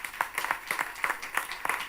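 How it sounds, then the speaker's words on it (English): Light applause from a small group at a conference session of the EU Cancer Mission Fair, a couple of seconds of scattered, brisk clapping. "So another round of applause."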